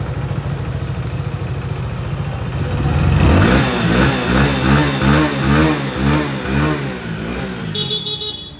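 A Hero HF Deluxe motorcycle's small engine cranks and catches on the second attempt, then settles into a loud, close, throbbing rev that rises and falls before cutting off at the end.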